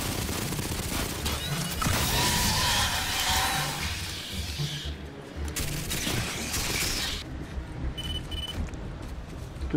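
Submachine gun fire in the shooter game Aliens: Fireteam, with long, loud rattling bursts that stop briefly and then start again. Sharp metallic clicks follow near the end.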